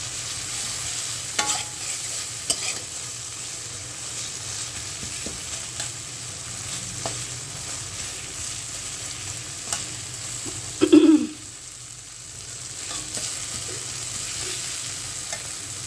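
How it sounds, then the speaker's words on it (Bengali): Onion, garlic, ginger, turmeric, chili and coriander stirred and fried in a pan for a rohu fish curry, with a steady low sizzle, scattered spoon scrapes and one louder clatter of stirring near the end. "হলুদ, মরিচ, ধনিয়া, আদা, রসুন, পেঁয়াজ কাটা সব কিছু দিয়ে এটা কষাই নিচ্ছি"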